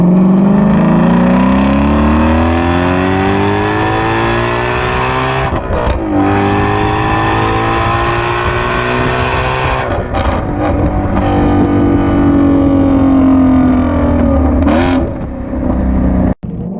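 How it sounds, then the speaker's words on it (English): Shelby GT350R Mustang V8 engine revving hard through upshifts and downshifts on an open road, a loud, continuous harmonic roar rising and falling with each gear change, close and steady with no talking. "Sounds amazing on downshifts."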